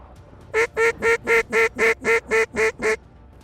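Mallard ducks quack about ten times in a steady, even rhythm, loud and fairly close, each call a nasal honking burst over faint background hiss, during a November hunt in South Dakota.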